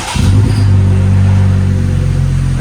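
A Jeep Wrangler JL with its muffler deleted, resonator still in place, revs hard up close, a loud deep rumble that swells quickly and then holds steady.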